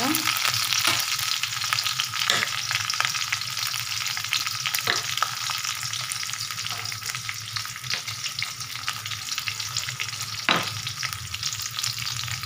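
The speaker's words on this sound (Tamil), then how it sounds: "அதுக்கப்புறம் காஞ்ச மிளகாய் போட்டுக்கோங்க போட்டவுடனே கொஞ்சோண்டு வெங்காயம் போட்டுக்கோங்க அதுக்கப்புறம் ஒரு ரெண்டு பூண்டு போட்டுக்கோங்க" Dried chillies, onion, garlic and green chillies fry in hot oil for a mint chutney, giving a continuous close sizzle broken by the occasional clatter of stirring, with no one speaking.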